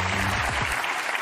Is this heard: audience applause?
yes